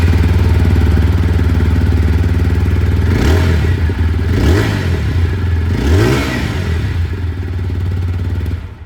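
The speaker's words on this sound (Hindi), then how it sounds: "दोनों की जो एग्जॉस्ट साउंड है ये भी मैं आप लोगों को सुना देता हूँ" TVS Apache RTR 160 4V motorcycle with a bullpup exhaust idling loud and close, then three short throttle blips that rise and fall in pitch before settling back to a steady idle.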